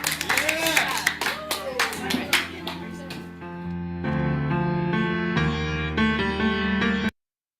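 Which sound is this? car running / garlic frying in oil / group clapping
group clapping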